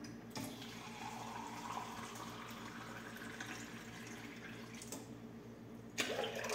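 Tap water running steadily into a mug, a continuous close splashing stream with a brief clunk near the end, no talking.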